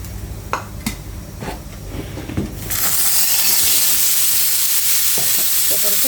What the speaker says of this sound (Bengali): পটল কেটে নিয়েছি সেটা আমি এরকম তেলের উপর ভাজি করে নেব